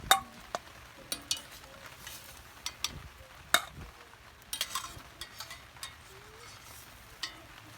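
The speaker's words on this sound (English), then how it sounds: "I'm going to use the slotted spoon here so that we can keep all of the juices in there" A slotted spoon scoops cooked hamburger from a Kamado Joe cooker into a bowl for Texas hash, giving a string of faint, scattered metallic clinks and scrapes over a low simmering background.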